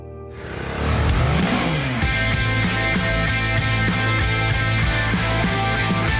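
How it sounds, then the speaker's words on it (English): A BMW G310GS adventure motorcycle engine revs up hard from a quiet start, then holds a loud, steady drone with rhythmic throttle pulses, close and alone with no voices. "It's a bike that's built for everyday adventures."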